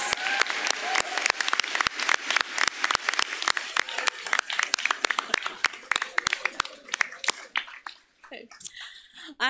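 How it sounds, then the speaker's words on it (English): Crowd at a spring commencement applauding graduate students, many brisk, distinct claps in quick succession, fairly close, thinning out toward the end as a voice begins to speak. "can we get one last round of applause for our graduate students?"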